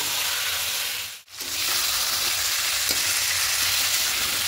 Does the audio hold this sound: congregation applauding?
no